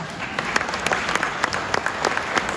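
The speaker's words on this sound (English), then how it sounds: "Deserves a round of applause." Audience applause fills a room at a talk by Oklahoma's lieutenant governor, a steady dense wash of many hands clapping with a few sharper claps standing out, moderately loud and without voices over it.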